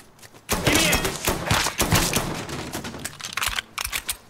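Gunfire in the video game Mafia III, a rapid, loud series of shots and thuds in uneven bursts, with a voice talking between them.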